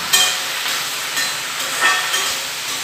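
Ridge gourd stir-frying in a hot pan gives a steady, close hiss and sizzle, swelling in soft waves as it is tossed, with no talk over it.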